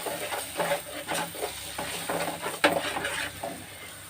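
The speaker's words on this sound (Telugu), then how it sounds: "ఉల్లిగడ్డ వేగిన తర్వాత 5 మినిట్స్ వేగాలండి" Onions sizzling in oil in a pan while being stirred for an aloo kabuli chana curry, with steady frying crackle and scraping spoon strokes against the pan, close and continuous with a few sharper clanks.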